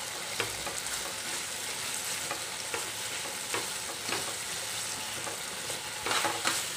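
Shredded chicken is stirred in a hot pan as it dries, giving a steady sizzle with repeated scraping strokes of a spoon at an even rhythm, close and moderately loud.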